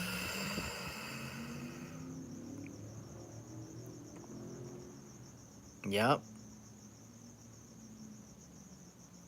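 Cricket chirping at night, a steady high-pitched trill that fades after the first couple of seconds, with a brief loud rustle midway and a single short spoken word.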